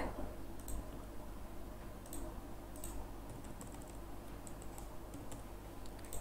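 Continuous typing on a computer keyboard while entering PAN card details into an online form, with steady soft key clicks over a constant hum of background noise and no talking.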